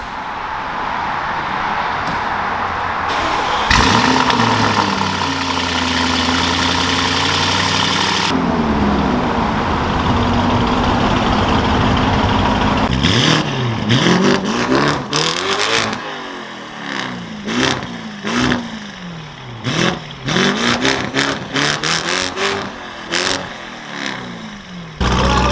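Exotic car engine at a soundcheck, starting with a steady loud idle, then a long held high rev, followed by a series of sharp throttle blips and revs rising and falling in quick succession, close and powerful.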